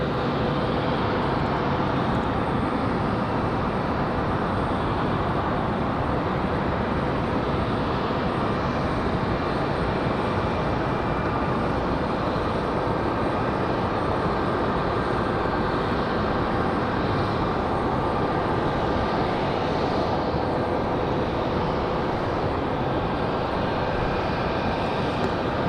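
An Embraer E190 jet at Raleigh-Durham airport, producing a steady, fairly loud engine roar with a faint whining tone that holds evenly throughout.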